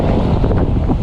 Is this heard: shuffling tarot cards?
no